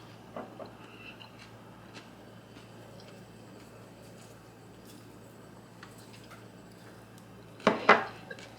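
Cucumber and avocado salad being tossed in a bowl, a quiet stretch of faint handling then a brief burst of utensil clatter and scraping against the bowl near the end, close.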